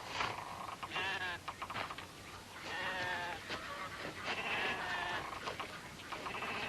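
A flock of sheep bleats almost continuously, with several overlapping, wavering cries rising and falling at fairly close range over a steady background murmur, and no voices intrude.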